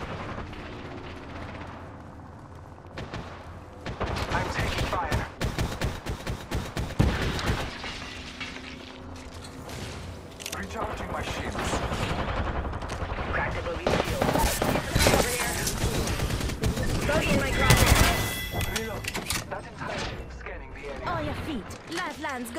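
Rapid gunfire and bursts of combat effects in an Apex Legends-style shooter video game, dense and continuous for most of the stretch, with a voice speaking over the shooting and heavier volleys near the middle and end.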